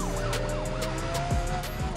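A police car siren wails in rapid rising and falling sweeps during a chase in Need for Speed Undercover, loud and close over a steady engine drone and game sound.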